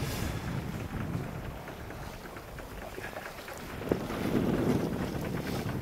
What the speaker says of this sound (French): Un gros bateau.